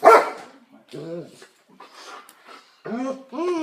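Police K-9 dog Kato during a building search, giving several sharp barks and whimpering yelps in separate bursts, close by, with a voice talking in between.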